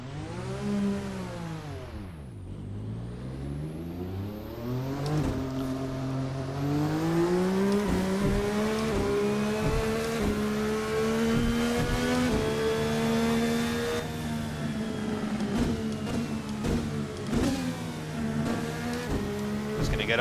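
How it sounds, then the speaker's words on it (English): A VRC Formula NA 2018 open-wheel race car in a racing simulator, its engine loud and close, revving and climbing steadily through the gears with brief shifts and lifts, no talking over it. "let's get this absolutely wonderful car out on track and take a little look at how it goes"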